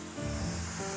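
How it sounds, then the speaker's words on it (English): A short burst of spray paint hisses onto a furniture top piece, a close, steady airy spray lasting about a second. "now we're ready to spray"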